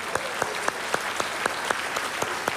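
An audience claps together in rhythmic, evenly spaced beats, a steady pulse of sharp claps cutting through a bed of crowd applause at moderate volume.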